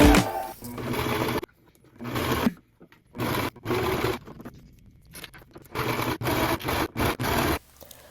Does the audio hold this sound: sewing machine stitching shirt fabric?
yes